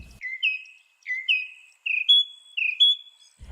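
A mockingbird sings a series of clear whistled phrases, about five short rising and falling notes spaced evenly. The song is close and alone against silence.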